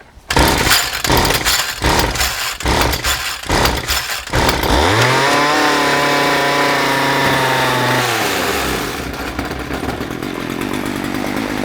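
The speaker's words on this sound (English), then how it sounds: "Now let's give it a tug." A John Deere RCS400 combo trimmer's small two-stroke engine is pull-started, with several rhythmic cranking pulls, then it catches, revs loud and steady near the listener, and drops to a rough idle.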